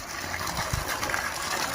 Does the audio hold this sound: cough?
no